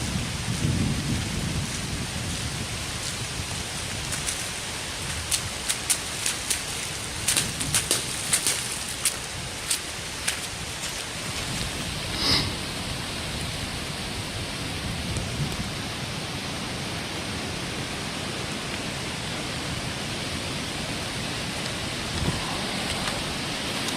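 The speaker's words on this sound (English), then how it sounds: "It's raining, it's windy," Steady rain falls outdoors on a windy November day, with constant hiss and patter close by, scattered sharper drops, and low rumbling gusts throughout.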